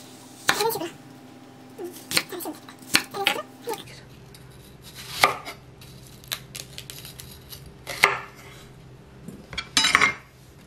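Onions sliced for pickle with a knife on a board in a kitchen, a handful of sharp separate cuts and taps, clustered and irregular, close and fairly clear with dish clatter around them.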